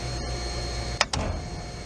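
Circulator pump running in an HVAC chiller system, a steady close mechanical hum with faint tonal whine and one brief pair of clicks partway through.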